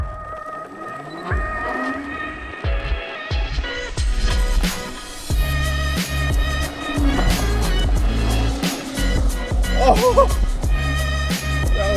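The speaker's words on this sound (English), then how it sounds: "So if you hold the brake and then hold the gas, it'll do like a launch." A Ninebot Go Kart PRO electric kart launches and drifts, giving a rising electric whine and tire scrub over pavement as it accelerates and slides, with a short exclamation from a voice nearby.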